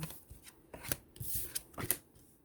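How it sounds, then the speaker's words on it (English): Tarot cards are shuffled and drawn in soft, quiet bursts of riffling and slapping, with short pauses between handfuls. "So I'm just going to go ahead and just pull 3 cards."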